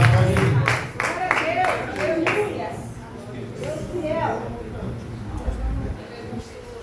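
A church congregation claps hands together in praise during a worship service, with steady rhythmic clapping for the first couple of seconds before it fades beneath voices and room noise.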